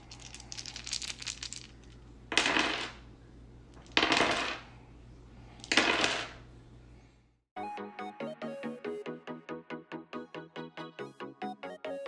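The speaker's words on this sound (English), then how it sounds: "let's go ahead and hear how these dice sound" Handmade two-toned resin dice tumbling, three bursts of clattering rolls with pauses between, followed by a rapid series of bright, evenly spaced tapping clicks as they bounce and settle, close and crisp with no talk.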